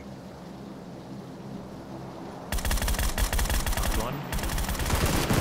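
Automatic gunfire in the shooter Battlegrounds erupts suddenly after a quiet stretch of low background, then rattles in loud rapid bursts to the end while a player briefly speaks.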